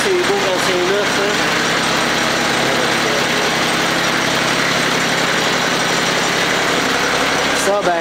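Kioti CS2220 compact tractor engine idling after a cold start at -22 °C, a loud, steady, close mechanical chug with a constant even rhythm throughout.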